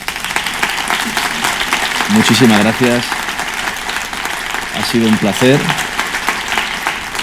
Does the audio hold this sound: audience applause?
yes